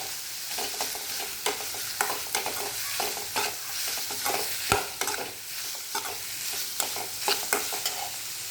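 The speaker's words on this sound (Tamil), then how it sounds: "பாதி பொன்னிறமாக வறுத்தா போதும்." Dried fish fries in oil for karuvadu thokku, a soft continuous sizzle punctuated by regular scraping and stirring strokes of a spoon against the pan, close by and without talking.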